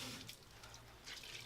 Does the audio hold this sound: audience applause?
no